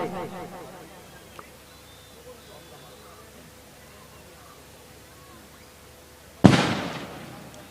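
Firecrackers set off at a village cricket match in Sawantwadi, a sudden loud burst of rapid crackling pops near the end, after a stretch of crowd murmur and commentary.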